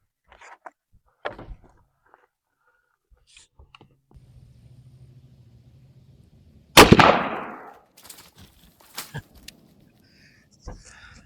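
A single 6.5 Grendel rifle shot firing a Federal Fusion MSR 120 grain round into ballistic gel, one sharp loud crack with a brief decaying tail amid quiet outdoor clicks and a few faint knocks.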